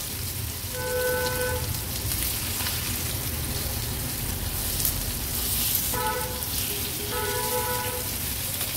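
Jitada (Asian sea bass) pieces frying on a hot tava griddle, a dense, steady sizzle like rain on a surface, with faint tonal hums coming and going behind it.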